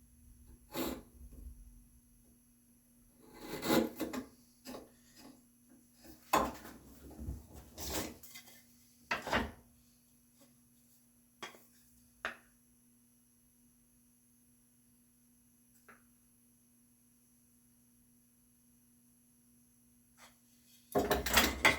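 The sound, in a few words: wood chisel paring shelf joinery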